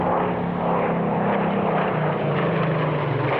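A Spitfire 19 with its Rolls-Royce Griffon piston engine flies past at an airshow, giving a loud, sustained propeller drone with a deep steady growl.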